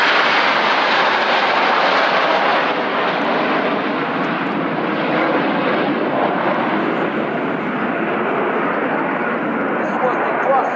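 Frecce Tricolori jet aircraft in an aerobatic crossing manoeuvre at an air show, giving a steady, loud roar of jet engines throughout, with an announcer talking over it.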